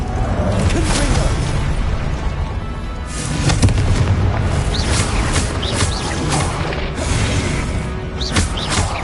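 Repeated Confringo fire spell blasts in the video game Hogwarts Legacy, dense booming explosions and crackling impacts layered over a constant loud battle rumble, several sharp bursts landing in quick succession.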